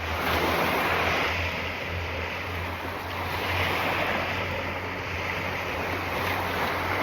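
Waves washing onto Ludington beach on the Lake Michigan dunes shore: a steady, moderate surf wash with a low rumble, gently swelling and easing, mixed with wind noise and no talking.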